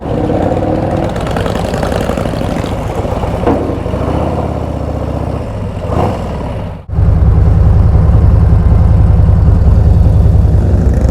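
A ferry's engine gives a steady, loud low rumble as motorcycle riders board, rising sharply partway through and holding close and constant to the end, with no talk.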